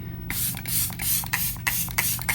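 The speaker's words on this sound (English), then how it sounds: "I'm gonna take the Hard Candy Look Unlock setting spray again and melt all these powders together" Hard Candy Look Unlock setting spray misted onto a face in several quick bursts, each a short, close, airy hiss repeating at a steady rhythm with no talking.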